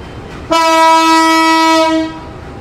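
A CC201 locomotive at the head of the Rajabasa train sounds its horn departing Blambangan Umpu station: one loud, steady, sustained blast of about a second and a half, with no voices.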